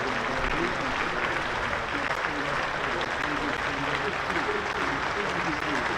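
Steady applause from a cricket crowd at a Hampshire versus Worcestershire one-day cup quarter-final, dense and sustained throughout, heard from a broadcast position with a commentator speaking over it.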